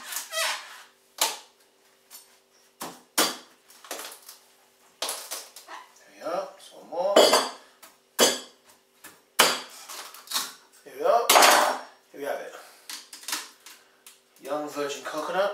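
A young coconut being opened with a hand opener tool, a series of sharp knocks, cracks and scraping clicks in irregular bursts, with a person talking in between.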